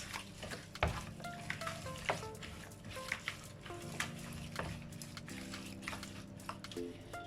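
Pasta sauce with smoked chili flakes and dry parsley is stirred in a pan, making quiet scraping and tapping sounds under a faint simmer.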